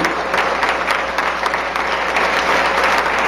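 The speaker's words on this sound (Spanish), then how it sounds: "denle un fuerte aplauso al Señor, porque Él lo merece" Loud, sustained applause from a church congregation at an evangelical ministerial congress, dense steady clapping filling the space with no voices over it.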